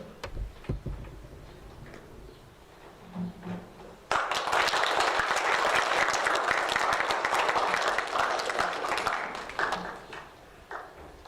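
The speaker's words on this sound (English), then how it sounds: "Remember, we clap on the handshake." A school assembly audience bursts into loud, dense clapping during a certificate handshake, following a quieter opening of scattered taps and faint room noise; the applause holds steady for several seconds, then thins and fades out.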